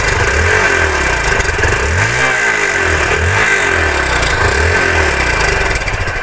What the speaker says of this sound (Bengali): বাইকটার সাউন্ড যারা শুনতে চাচ্ছেন তাদের জন্য সাউন্ডটাও শোনাই